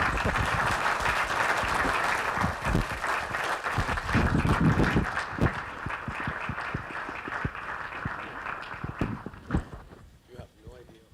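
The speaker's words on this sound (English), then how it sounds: "Please join me in giving him another round of applause." Audience at a business college fall gala applauding, dense clapping that fills the first half then thins into scattered claps and fades out, with some talking mixed in.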